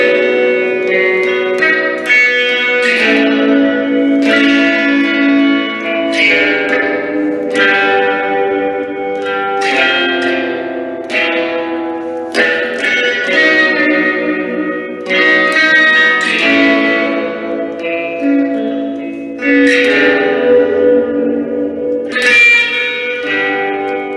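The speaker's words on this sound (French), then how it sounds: "Avec la reverb, on va pousser ça un peu à l'extrême." A synth melody drenched in an extreme reverb effect, each note blooming into a long shimmering wash that overlaps the next, loud and alone with no talking.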